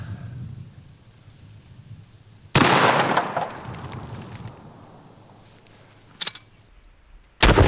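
Henry Model X lever-action rifle in .44 Magnum firing a Hornady 240-grain XTP round at a target about seven yards away, one sharp, loud blast with a decaying echo, then two brief later impacts.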